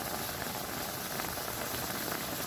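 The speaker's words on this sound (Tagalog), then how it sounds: "kumukulo na siya" Water boils in a pan for cooking hotdogs, giving a soft, continuous bubbling hiss that stays faint and even throughout, with no voices.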